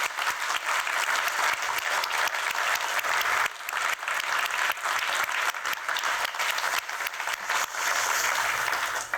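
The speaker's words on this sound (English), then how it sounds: "A big round of applause." A big round of applause fills a science awards ceremony, dense and steady from a large audience for about nine seconds, with one brief dip midway before it swells again.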